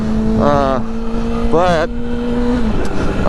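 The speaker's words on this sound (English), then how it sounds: "I'm accelerating through my wheelie and I end up redlining it out" A motorcycle engine revs hard and climbs toward redline while the bike is held up in a wheelie, with a steady droning tone and rising harmonic sweeps that stay close and loud throughout.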